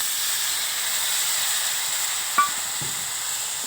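Masala spices sizzle in a pot of local chicken curry over a fire, a steady close hiss with a small clink partway through and no talk.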